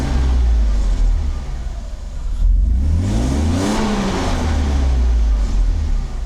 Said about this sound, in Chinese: 整个引擎运转很顺畅